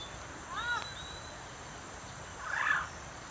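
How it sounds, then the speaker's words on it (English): Free-roaming parrot on a Costa Rica farm, two brief distant screeching calls over steady outdoor background noise, with no talking. "That's Esther screaming."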